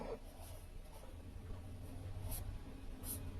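Devanagari letters handwritten on a surface: faint, steady scratching and light pen strokes over a quiet background, close by with no voices.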